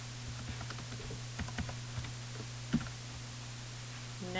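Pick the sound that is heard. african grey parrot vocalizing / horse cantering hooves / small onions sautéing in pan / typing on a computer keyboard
typing on a computer keyboard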